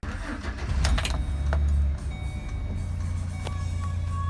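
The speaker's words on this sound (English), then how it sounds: "we're about to start the Chevy Express with the airbag issue" A Chevy Express van with an airbag fault cranks and starts, a loud low rumble surging for a second before settling into a steady idle, with a few clicks and light chimes over it.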